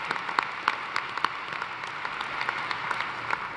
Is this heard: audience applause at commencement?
yes